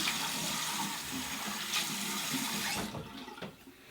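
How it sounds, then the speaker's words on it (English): Tap water runs steadily and splashes into a sink as a face is wetted with warm water, a close, continuous wash that thins and breaks into a few drips near the end. "I'm going to go ahead and wet my face again"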